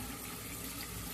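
Water running from a tap to wash out a fountain pen barrel, a steady broadband rush of flowing, splashing water with no pauses, close and even throughout.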